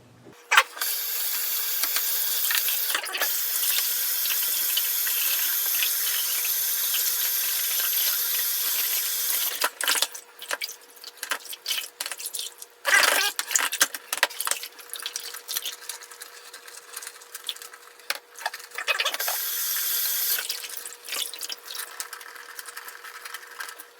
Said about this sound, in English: clean the filter out, and let's see how dirty the water gets from it